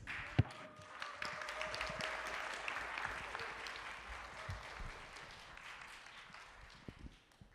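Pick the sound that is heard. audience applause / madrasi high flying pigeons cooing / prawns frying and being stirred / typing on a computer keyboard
audience applause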